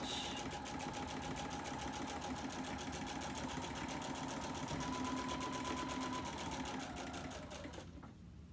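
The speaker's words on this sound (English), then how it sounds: "And I'm just going to finish stitching in the ditch." A sewing machine stitching in the ditch on a mini quilt runs in a fast, steady mechanical chatter with a faint whine, close and continuous before tapering off at the end.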